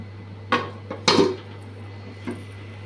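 A lid set over a pot of magur fish curry, with a few close metallic clanks and rattles as it settles, then a softer tap, over a steady low hum.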